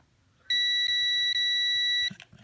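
A continuity tester gives a single steady, loud electronic beep lasting about a second and a half as a long motor screw touches ground on a drone. Faint background noise is heard before and after.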